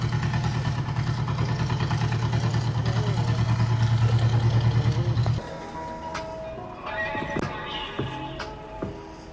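A John Deere tractor on a Toronto city street: a steady, throbbing diesel engine runs close by for about five seconds, then drops away into general street noise with scattered clatter.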